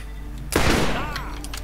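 A single sharp blast goes off in the Borderlands shooter game, a heavy explosive bang with a thudding decay over steady background game noise.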